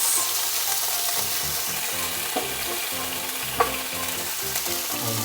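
Steady loud sizzle of garlic and onion sautéing in strained oil, with occasional scrapes and taps of a utensil stirring the pan, continuous throughout.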